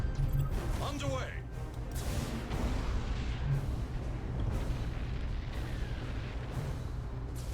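Mines detonating in the space strategy video game Battlefleet Gothic Armada 2, low rumbling booms and crashes layered under ongoing talk, with sharper bursts early on and a continuous heavy roar after.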